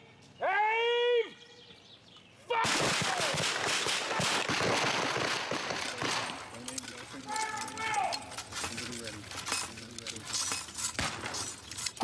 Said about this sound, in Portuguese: Os atores têm 2 minutos e meio para atirar